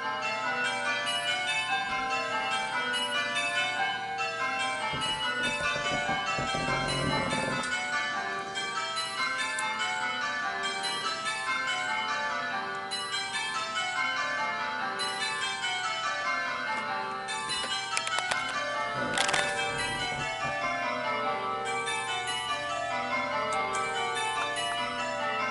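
Nine church bells ring Grandsire Caters in continuous change-ringing, an even cascade of overlapping clangs that never pauses, loud and close with no talk.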